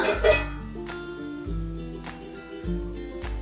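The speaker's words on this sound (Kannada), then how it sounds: "ಲಿಡ್ ಓಪನ್ ಮಾಡೋಣ" A lid lifts off a pan of stuffed okra frying on the stove, giving a few sharp metallic clinks and clatters of cookware, short and close, over a faint background hum.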